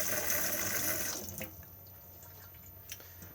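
Tap water runs into the kitchen sink of a 2021 Auto-Sleeper Burford motorhome, a steady close splash that cuts off after about a second and a half, leaving faint drips and quiet room tone.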